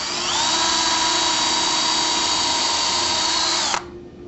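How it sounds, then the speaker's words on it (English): A power drill pre-drills a hole for installing a bypass door track, whining at a steady high pitch for almost four seconds before cutting off abruptly. "We'll go ahead and insert the drill and pre-drill another hole."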